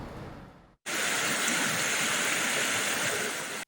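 Floodwater in Gilgit-Baltistan rushes in a loud, steady broadband roar that cuts in abruptly after a brief quieter stretch and holds unbroken close by.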